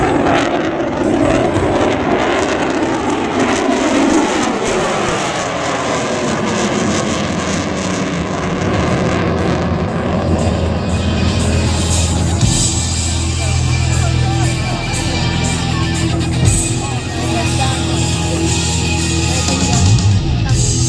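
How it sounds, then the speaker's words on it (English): A loud jet roar builds and rumbles as an F-35C fighter's Pratt & Whitney engine thunders past in full afterburner at an air show, with deep low rumble growing toward the end. "you'll hear and feel the thunder of his Pratt & Whitney engine as he passes the air show center in max afterburner"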